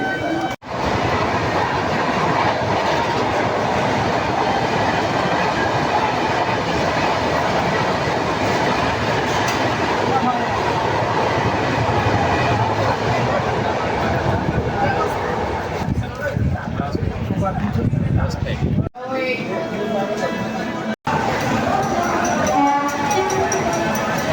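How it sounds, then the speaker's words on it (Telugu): A train from Secunderabad to Kashi rolls steadily along the tracks near Betul railway station with loud continuous rumble and rattling wheels, easing near the end. "మా ట్రైన్ మూవ్ అయ్యే ఛాన్స్ ఉంది. మేము వెళ్తున్నాం."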